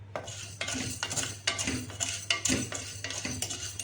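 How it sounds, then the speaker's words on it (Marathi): Chana dal and toor dal dry-roasting in a pan, stirred with a metal spoon in quick, irregular scrapes and clinks against the pan, close and moderately loud, with no sizzle of oil. "आता आपण चना डाळ तूळ डाळ भाजून घेऊया"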